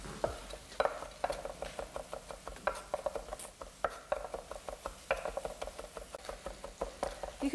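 Garlic chopped with a knife on a board, quick rhythmic taps repeating steadily at close range, fairly quiet.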